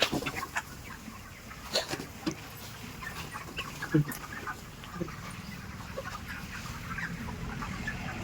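Many chickens, about 30 days old, clucking and murmuring together in a crowded 5,000-bird poultry house, a constant flock din with occasional louder squawks, with a voice speaking now and then.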